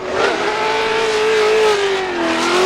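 A BMW drift car at a Formula Drift event in Salt Lake City initiates a drift, its engine holding a loud, sustained high-revving wail with slight pitch wavering, close and continuous with no talk.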